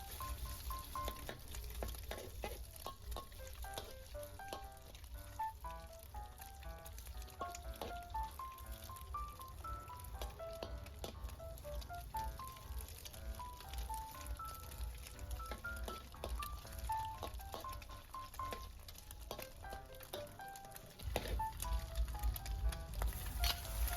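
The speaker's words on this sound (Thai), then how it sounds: "ไข่สุกแล้วเราก็เติมกุนเชียงลงไปลงไปผัดใส่ไข่นะครับ" Chinese sausage and egg stir-fry in a hot pan with a continuous, dense sizzle and frequent spatula clinks, growing a bit louder near the end.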